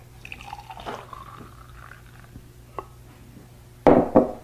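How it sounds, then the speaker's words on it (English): Fresh juice from a Greenstar juicer trickles and splashes into a small glass, a few faint drips followed by two short, louder bursts of pouring near the end. "Pour it into a cute little glass."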